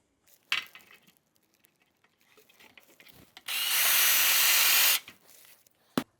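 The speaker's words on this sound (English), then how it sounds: "we can just drill once through that and be done" A power drill whirs loudly for about a second and a half, steady and close, drilling through the holes of a bracket for a shower awning, after some quiet handling clicks and knocks.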